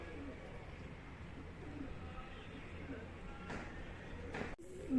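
Domestic flying pigeons coo softly and intermittently at a moderate distance, against a light outdoor background with some faint human voice activity.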